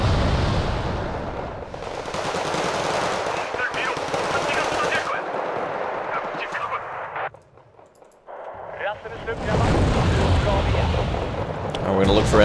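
Heavy gunfire in Wargame: Red Dragon, a real-time strategy battle between South Korean marines and North Korean units: dense, sustained machine-gun bursts and booming artillery roll on almost continuously, briefly thinning midway before surging back at full intensity.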